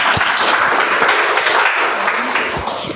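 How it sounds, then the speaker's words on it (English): Enthusiastic applause from the audience at a Toastmasters club meeting, dense clapping throughout welcoming the table topic master, fading slightly toward the end. "with a big round of applause, let's welcome our table topic master, Kadiravan Selvam."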